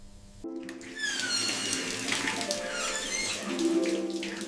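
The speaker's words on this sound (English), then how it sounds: "Running water." Water running from a tap, a steady full gush that starts abruptly and continues evenly over a faint tonal background.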